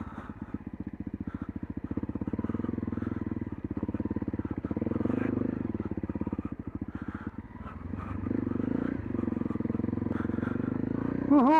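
A Honda CRF dirt bike on a bumpy trail near Russel Ridge, its mid-pitched engine droning steadily and revving in waves while the suspension clatters over rough ground.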